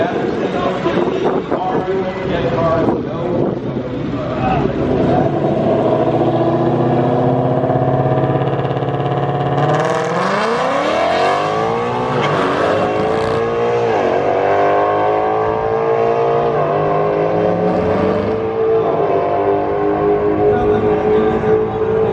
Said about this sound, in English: We just raced JD Joyride.